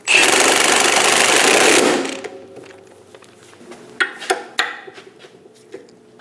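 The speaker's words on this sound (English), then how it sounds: "Snug the nut down." A nut is snugged down on the idler arm bracket of a Chevrolet Express 2500, starting with a loud two-second whir of a power tool, then several sharp metallic clicks and taps spaced apart.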